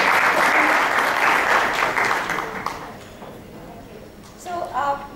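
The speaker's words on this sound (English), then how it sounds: "let's have a big applause" Audience applause at a Docker testing tech talk, a dense burst of clapping that is loud at first, then thins and fades over several seconds.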